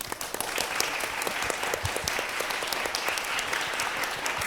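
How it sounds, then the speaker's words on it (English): A conference audience applauds an event organizer in a big hall, steady full clapping from many hands, close and continuous for a few seconds with no voices. "Please stand so we can give you applause."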